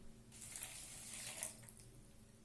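Half a glass of water poured into a bowl of dough mixture with cane sugar and salt, a faint splashing pour lasting about a second, quiet and alone.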